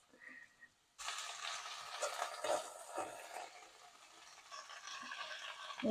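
Water spinach (kangkung) is dropped into a hot pan and stir-fried. After a near-silent moment, the sizzle bursts in and carries on steadily, with soft stirring scrapes and crackles close by.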